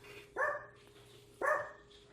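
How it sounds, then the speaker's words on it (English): A dog barks twice, each a single sharp indoor bark about a second apart, fairly close and loud against a quiet room with a faint steady hum. "have no clue what he's barking at."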